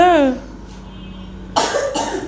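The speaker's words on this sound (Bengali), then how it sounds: "কাশি হয়েছে" A voice trails off, then a sharp, close cough bursts out, followed quickly by a second cough.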